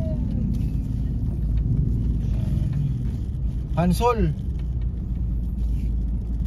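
Street traffic on a busy multi-lane road with tricycles about, a continuous low rumble of engines close by, with a brief high-pitched horn-like chirp partway through and a voice calling out over it.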